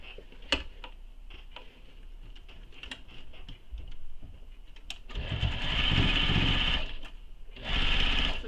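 A sewing machine stitches a nylon bag in two loud runs, one longer and one shorter, after clicking and tapping from adjusting the machine and handling the fabric.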